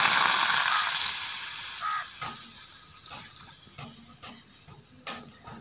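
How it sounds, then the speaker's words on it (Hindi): Roughly a glass of water poured into a pot sitting on a stove, a loud splashing gush that fades within about two seconds, followed by faint sizzling and a few small clinks. "अब इसमें तकरीबन डालेंगे 1 गिलास पानी।"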